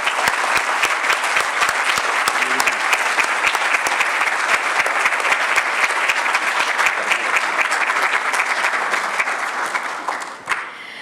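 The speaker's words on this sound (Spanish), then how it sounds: "Les pido que le demos un aplauso a Juan, pero también a Sergio." An audience gives Juan Nepote a long round of applause, dense continuous clapping from a large crowd that holds steady for about ten seconds before tapering off.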